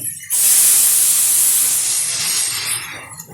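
Water poured onto mango pieces frying in hot oil for a Bengali sour mango dish erupts into a loud, sudden sizzling hiss that starts abruptly, then holds close and strong before easing slightly over about three seconds.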